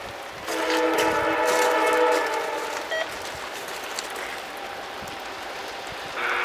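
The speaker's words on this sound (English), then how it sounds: "NS Autorack Train 17E coming out of Binghamton, heading to Detroit, Michigan, with a solo NS SD70 ACC on the point" A Norfolk Southern autorack freight train led by a single SD70ACe locomotive passes on a cold, rainy day, its horn sounding loud and sustained in several long blasts before the rumble of passing cars continues steadily alone.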